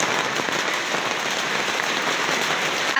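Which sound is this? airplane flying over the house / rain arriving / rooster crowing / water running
rain arriving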